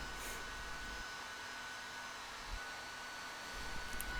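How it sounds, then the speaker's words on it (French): Hot-air welding of floor covering seams during floor laying gives a steady, fairly faint, broadband blowing hiss that runs unbroken through the whole stretch, with no talking. "on les soude pour qu'ils soient étanches. Donc, c'est une soudure qui est à chaud"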